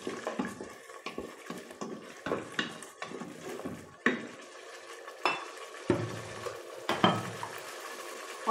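Spiced potatoes and peas being stirred and fried in a pan for aloo matar bhuna, with repeated scraping and clinking of a spoon against metal over a soft sizzle, close and steady with no talking.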